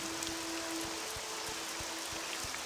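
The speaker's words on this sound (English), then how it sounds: "And naturally, heavy rain." Steady, dense rain hiss of heavy rain in the video game Morrowind fills the space, with a low regular thudding pulse beneath and a faint sustained tone; continuous, no voices.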